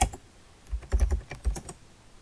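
Someone types an SQL query with a count function on a computer keyboard, giving quiet close bursts of key clicks in short uneven runs.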